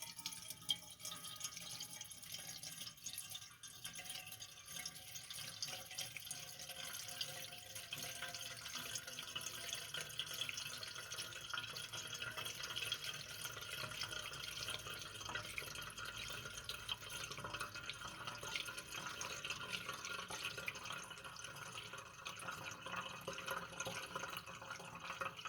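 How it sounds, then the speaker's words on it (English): Liquid trickles and splashes steadily as it is poured from a jug into a Dietz Jupiter lantern, faint and continuous throughout with no talking. "I bet it'll take this whole jug to fill this up."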